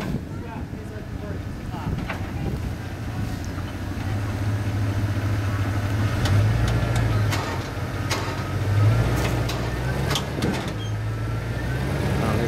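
A Chevrolet Canyon ZR2 pickup truck engine idles with a low steady rumble, occasionally revving slightly, while people talk nearby outdoors.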